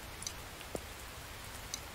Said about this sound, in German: Aber dass es ständig regnet